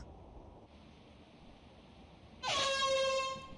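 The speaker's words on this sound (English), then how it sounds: "quit honking the fucking horn and get over here" A truck horn sounds in Lethal Company, one loud sustained blast starting abruptly near the end over a steady low background hum.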